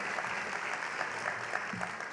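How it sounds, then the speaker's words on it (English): An audience in a ballroom at the Who's Who in Black Columbus 2025 event applauds, a quieter, distant bed of mixed clapping with a few sharper hand claps standing out. "Give yourself a round of applause for how great you look"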